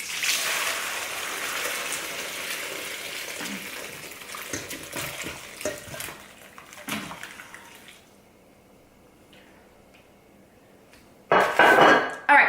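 Hot bone broth pours and splashes steadily through a strainer at first, then thins to intermittent trickles and clinks, with a brief loud gush near the end.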